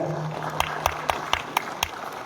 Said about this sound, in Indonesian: Kami minta tepuk tangan lagi buat para kandidat.